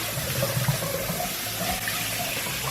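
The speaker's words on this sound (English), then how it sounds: "Rinse off the sponge." A kitchen sink tap runs steadily while a sponge is rinsed under the stream. The close water rush splashes and gurgles gently and stays level for a few seconds, with no voices.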